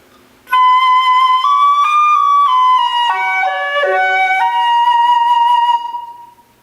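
A single flute played with poor embouchure plays a slow sequence of sustained tones, clear and fairly loud, with a slightly airy, unfocused edge and no talking.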